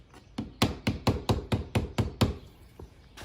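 A series of about nine sharp, evenly spaced knocks rings out as a hand or tool strikes the roof edge molding on an E36 coupe to free it from the trim, followed by a couple of fainter taps.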